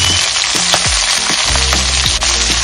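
Mustard seeds and spices, with dried red chillies, crackle and sizzle loudly in hot oil for tempering, with a dense continuous frying hiss and occasional stirring scrapes close by.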